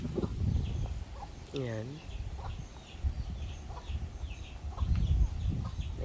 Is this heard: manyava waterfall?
no